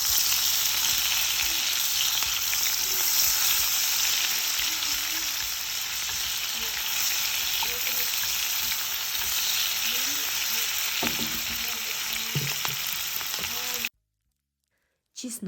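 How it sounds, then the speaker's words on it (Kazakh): Chopped onions sizzling steadily in hot oil for Uyghur lagman, a dense continuous frying hiss with faint stirring clinks, loud and close throughout before cutting out abruptly near the end. "Біздер манағы жуаны алып турап, қайтадан бөлек шыжғырамыз"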